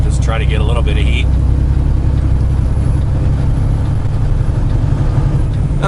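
A truck engine idles in the cold with the heater running, a steady loud low rumble and drone throughout, with a brief voice over it near the start.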